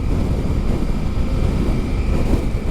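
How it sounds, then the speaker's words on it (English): Steady, heavy wind roaring and buffeting close to the microphone in Willemstad, a constant low rumble with no voices. "It is very windy."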